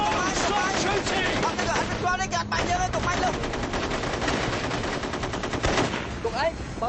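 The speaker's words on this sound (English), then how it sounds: "Don't shoot! No! Stop shooting!" Rapid bursts of gunfire crackle through a tense hostage situation in Cambodia's Killing Fields, loud and continuous, with shouting voices mixed in among the shots.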